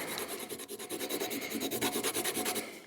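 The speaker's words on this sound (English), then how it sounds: "So just load the strop up with it." White sharpening compound is rubbed onto a leather strop in quick, steady back-and-forth strokes, a soft, close rasping that pulses rhythmically without pause.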